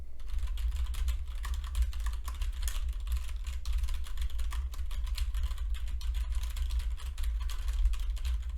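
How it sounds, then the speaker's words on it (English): Fast, steady typing on a computer keyboard, a dense patter of crisp key clicks heard close, over a low constant hum, with no speech. "let's go ahead and do some typing and see what that sounds like."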